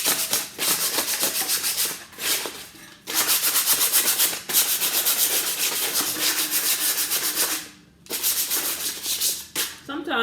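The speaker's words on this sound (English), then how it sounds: "Sometimes if you're sanding," Sandpaper rubs back and forth across the back of a vent cover in loud, close, rasping strokes, broken by a few short pauses between passes.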